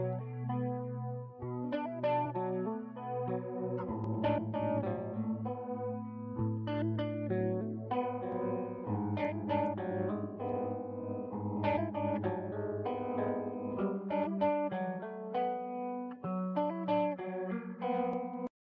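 Chorused, echoing guitar notes and chords ring out through a Credland StereoSavage effect, a timing delay smearing each attack into repeats, playing steadily with no talking.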